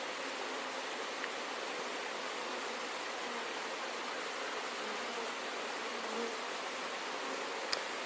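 Honeybees swarm from an opened wooden hive during an inspection, a dense, steady buzzing hum that holds evenly throughout with no talk.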